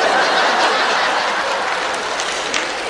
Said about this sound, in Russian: Вот я сказала, женщины реагируют, аплодируют